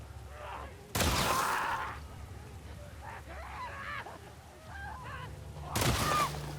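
Gunfire in The Last of Us Part II video game: two loud, sharp broadband blasts several seconds apart, with quieter honking cries and a voice in the gap between them.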